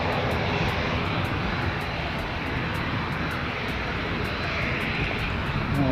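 A parked aircraft's engine running on a test stand at an airport, heard as a loud, steady roar throughout with no change in pitch.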